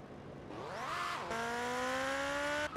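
A car in GTA Vice City races at high speed, its engine revving upward and then dropping as it shifts gears. A steady high whine follows, loud and close, with no talking.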